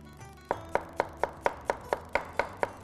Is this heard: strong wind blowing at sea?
no